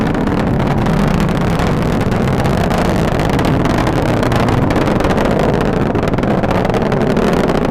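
An Atlas V rocket in flight during its launch carrying the MUOS-2 satellite, a loud continuous broadband roar with wind buffeting that stays steady throughout, with no voices.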